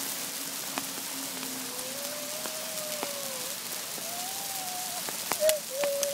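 Hail falls outdoors on open hillside ground, making a dense, steady patter and hiss throughout, with faint, thin whistling tones drifting above it.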